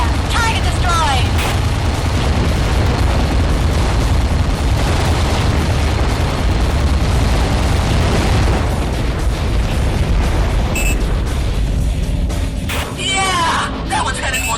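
Underwater explosion in the submarine combat game Aquanox as a target is destroyed: a long, loud rumbling boom that fills the whole stretch, with game effects and chatter layered over the blast.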